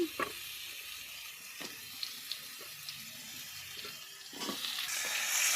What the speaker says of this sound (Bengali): এবার আলু আর পেঁপে একসাথে আমরা ভেজে নেব।